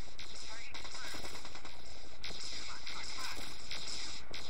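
Automatic weapons fire and explosive gunshots from mechs battling in the real-time strategy game Mech Commander 2 during a night raid, dense and continuous with a few louder bursts, a voice talking faintly underneath.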